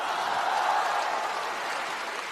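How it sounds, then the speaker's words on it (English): A comedy-show audience breaks into sustained applause, a dense wash of clapping that holds steady and fades only slightly, with no speech over it. "She's got the crowd cheering for social folks."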